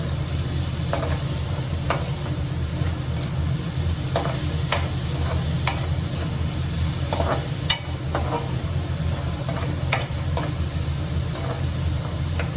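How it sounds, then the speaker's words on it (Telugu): Onions fry in a pan for a curry while salt is stirred in, a steady sizzle under repeated scraping strokes of a spoon at an irregular rhythm, close and without talk. "సాల్ట్ ఒకసారి కలుపుకుందాము"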